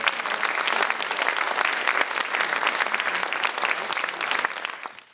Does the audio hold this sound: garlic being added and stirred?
no